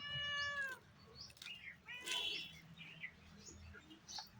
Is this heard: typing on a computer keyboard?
no